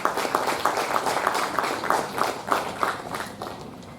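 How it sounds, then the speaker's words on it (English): Lecture-hall audience applauding at a university endowment lecture programme: a steady, dense patter of many hands clapping together, sustained evenly for several seconds without pause or speech. "please, a big round of applause for accepting."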